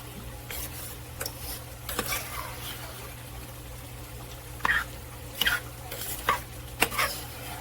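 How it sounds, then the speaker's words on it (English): Food stirred in a pot with chili seasoning mix for a budget fall meal: soft scraping and a few sharp utensil knocks against the pot over a low steady hum, close and fairly quiet. "And give it a good stir."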